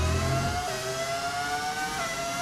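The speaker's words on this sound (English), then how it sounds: "They changed the engine sounds? No, it's a mod." A Formula 1 car engine in the F1 25 racing video game, with modded engine audio, holds a steady high whine that shifts pitch as the car changes speed. It sounds loud and continuous, with no talking.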